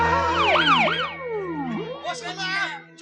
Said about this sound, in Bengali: কোন শালা অ্যাম্বুলেন্সকে খবর দিলে?